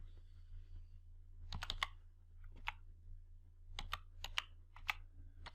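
Keystrokes on a computer keyboard while entering a date into an Excel spreadsheet cell, arriving in quick bursts of separate clicks over a steady low hum, with no talking.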